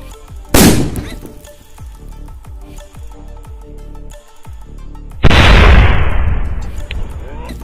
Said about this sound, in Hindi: सुतली बम ये काफी धमाकेदार था